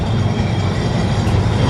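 A tram rolls past near the Nonapukur tram depot on a Kolkata street, a loud, close, continuous rumble of wheels on rail with no talk over it.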